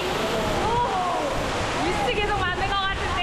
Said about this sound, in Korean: 암석 사이로 쏟아지는 폭포수가 무지갯빛으로 빛나는 시간대가 있다는데요